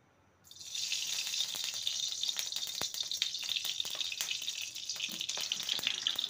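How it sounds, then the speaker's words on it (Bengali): Mustard oil hitting a hot wok sets off a steady, bright sizzle that starts abruptly after a brief quiet moment and continues evenly, with small crackles and pops scattered throughout; close and fairly soft, with no voices. "কড়াইতে দিয়ে দেবো সরষের তেল।"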